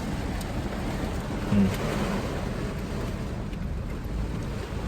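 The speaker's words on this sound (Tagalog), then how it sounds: "Ayan po, ang lakas ng ulan po dyan." Heavy rain pours onto market stalls, a dense, steady roar of water that stays loud and even throughout with no voices.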